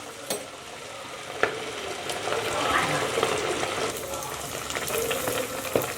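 Rice adai dough patties slid into hot, smoking oil, giving a steady close sizzle and bubbling crackle with a few sharp spatters and clinks throughout.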